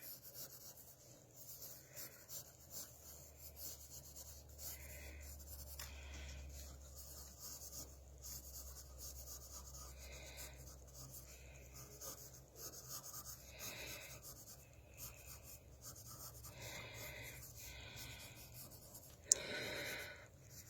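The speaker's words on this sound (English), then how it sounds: "And then you can actually draw their legs like so." A pencil scratches and rubs across paper while drawing a figure's legs, soft and close, in irregular strokes with a low hum underneath and no speech.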